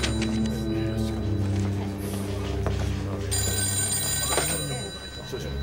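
A telephone bell rings with a bright, sustained metallic trill that carries through the room and grows more piercing partway through.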